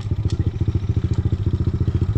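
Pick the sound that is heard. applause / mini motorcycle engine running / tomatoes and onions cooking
mini motorcycle engine running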